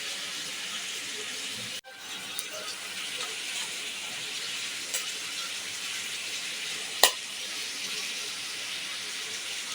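Radish curry boils with a steady, close hiss and bubbling as pieces of fried fish are added, with two sharp brief knocks breaking the even simmer.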